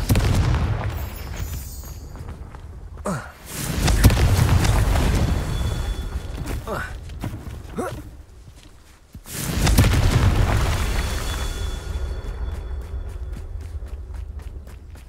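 Loud booming blasts from Confringo fire spells in the Hogwarts Legacy video game, two big rumbling explosions with a long roaring tail, mixed with game effects and scattered impacts.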